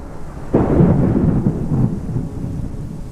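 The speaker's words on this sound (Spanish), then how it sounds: "afuera tronó el cielo y se soltó la lluvia" A deep rumble of thunder with heavy rain pouring steadily outside, the boom swelling suddenly and fading over a few seconds, no voices.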